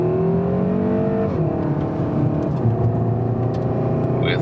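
A Seat Leon Cupra R ST estate with all-wheel drive runs in Cupra mode on a circuit in Mallorca. The engine drones loud and close, its pitch dropping at each gear change before climbing again.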